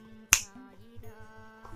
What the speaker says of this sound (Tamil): ஒரே ஒரு சொடக்கு போட்டால்